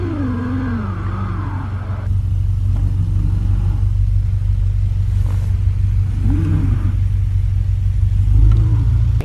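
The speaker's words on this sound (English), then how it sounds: "Yeah, this wheel's just spinning." Honda EG hatchback stuck in a snow pile, its engine droning low and steady while the wheel spins with rising and falling whining pitch, close and fairly loud with no talk.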